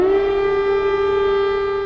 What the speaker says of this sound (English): An air raid siren blares, announcing a fresh barrage of Russian missiles headed towards the Ukrainian capital.